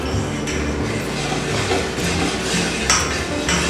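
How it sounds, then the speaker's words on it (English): Eggless wheat cake batter being stirred in a bowl at home: steady scraping and soft clinking of utensil against the bowl, continuous and close. "Give it a good mix."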